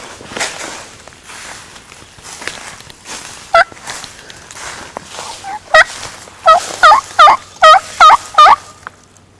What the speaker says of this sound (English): There's a turkey gobbling off down in this field